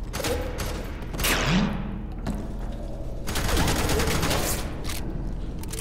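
Rapid bursts of gunfire in the video game F.E.A.R. 3 crackle repeatedly, dense volleys of shots with booming impacts, loud and continuous throughout.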